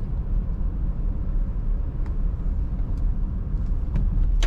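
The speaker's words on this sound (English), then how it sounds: "Very easy starting, smooth running vehicle." A 1985 Jaguar XJ6 sedan with an automatic transmission runs smoothly, a steady low engine rumble held at an even level throughout, with a few faint clicks over it.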